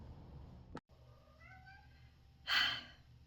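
A soft, drawn-out cat meow rises and falls against a quiet room, followed by a brief breathy sound.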